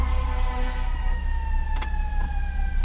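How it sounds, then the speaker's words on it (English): Sirens wail in steady, sustained tones against a constant low rumble of city traffic, with a couple of brief sharp bursts of noise near the end. "Let me close the windows to cut down the siren noises"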